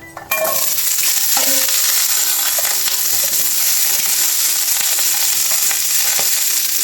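Green beans frying in oil in a hot wok over high heat, giving a loud, steady, dense sizzle that starts abruptly and continues throughout, with faint occasional clinks.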